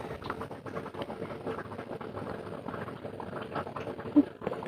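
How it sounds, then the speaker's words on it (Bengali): Potatoes boil in a pot on a home kitchen stove, making a soft, continuous bubbling patter at low volume with one brief louder knock near the end. "আলু সিদ্ধটা হয়ে গেছে, নামিয়ে নেবো"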